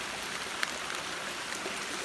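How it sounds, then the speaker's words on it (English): Water runs down a rock face into a stone basin along a forest trail in Shawnee State Forest, a soft, steady rushing wash with faint splashes, fairly quiet and without voices. "This water is just going right down until it hits that rock basin down there."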